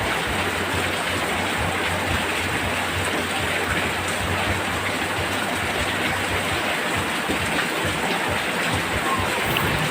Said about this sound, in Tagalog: So grabe talaga ng lakas ng ulan na yan guys.